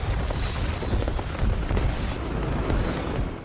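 In a place packed with fireworks, a rumbling blast rolls on with crackling debris and low booms, sustained for a few seconds before fading.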